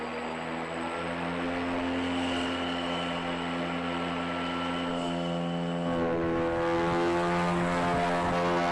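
The rotors of NASA's Ingenuity Mars helicopter spin very fast, making a loud, steady droning hum with a tonal whine that holds throughout and swells slightly near the end.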